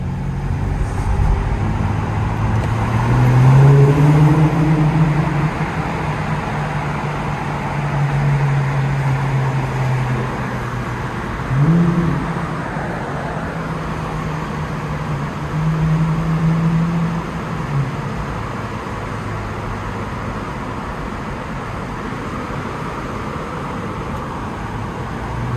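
A muffler-deleted Infiniti Q50 rolls through foggy Times Square traffic, its exhaust droning low and steady with a couple of brief revs swelling and fading amid surrounding street noise.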